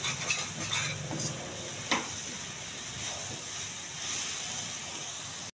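Soft, steady sizzling and hiss of greens cooking in a pan, with faint scraping as they are stirred; quiet and continuous, no voices.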